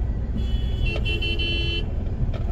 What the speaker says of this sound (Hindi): 300 मीटर जाने के लिए इतना ट्रैफिक